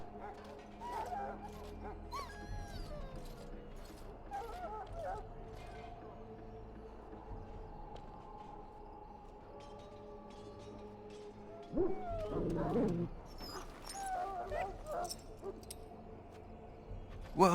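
A dog in the fantasy game Dragon Age: Origins growls and gives short barks and whimpers, fairly close, beneath a calm ambient music bed with people talking nearby.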